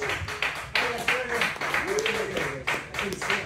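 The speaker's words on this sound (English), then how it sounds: "a warm round of applause for him" An audience at the Sunday Punchline stand-up comedy show claps for comedian Evan Shafran: scattered, uneven claps rise in bursts while a host talks over them nearby.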